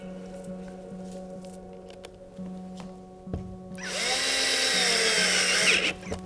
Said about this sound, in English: Screws right onto the wall.